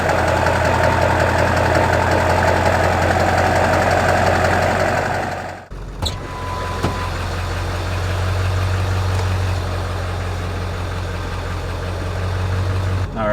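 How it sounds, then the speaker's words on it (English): A 2000 Ford F250 with a 7.3 Powerstroke diesel idles after a cold start following a few days sitting, giving a loud, steady low rumble with a clattering knock and a brief dip midway before settling back into idle. "Maybe let you guys listen to a nice little cold start."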